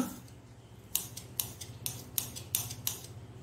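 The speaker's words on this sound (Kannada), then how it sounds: "ಗ್ರೈಂಡ್ ಮಾಡೋದು ಹೇಳಿದ್ರೆ ನಾವು ಚಾಪರ್ ಅಲ್ಲಿ ಚಾಪ್ ಮಾಡ್ಕೊಳ್ಳೋಣ" A hand-pulled vegetable chopper cutting capsicum and carrot into small pieces, a series of about seven sharp, evenly spaced clicking snips over a low rattling background.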